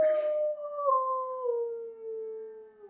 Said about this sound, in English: that's my dog howling, if you can hear that